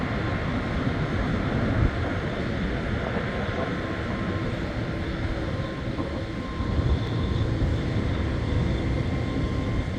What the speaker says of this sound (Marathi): ते आता टेक ऑफची तयारी करत आहे. तर निघाले बघा पार्किंगमधून.